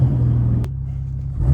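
A car engine idles with a deep, loud, steady rumble up close at a traffic light as launch control is set, holding low and even with a brief sharp click partway through.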